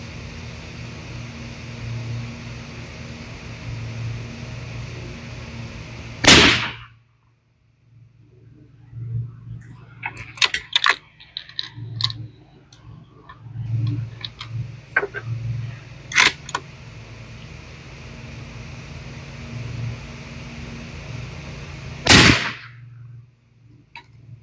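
Two loud, sharp rifle shots from a Weatherby Vanguard in .308 Win at an outdoor range, about sixteen seconds apart, with faint handling clicks and rustling between them and a steady background hum.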